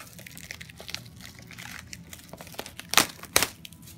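Plastic wrapping on a Yu-Gi-Oh! Premium Gold: Infinite Gold 1st Edition booster box being cut and pulled open, steady close crinkling with two sharper tearing bursts near the end.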